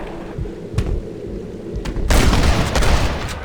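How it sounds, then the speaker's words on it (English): Enemy gunfire in Red Dead Redemption 2 as outlaws shoot down from a clifftop, scattered shots at first, then a loud, dense burst of overlapping gunfire and booms that continues to the end. "They're shooting down on us!"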